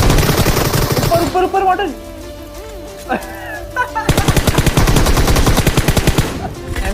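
Rapid automatic M4 rifle fire in the PUBG Mobile video game, loud bursts at the start and again in a sustained stretch near the end, with someone speaking over a quieter middle section.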